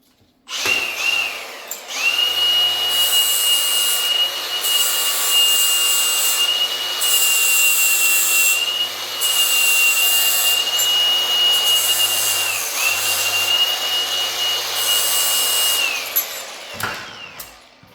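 A power tool grinds steadily against an aluminum rock crawler part to strip off its anodizing before TIG welding, with a sustained high whine for about fifteen seconds, briefly dipping a few times and then stopping.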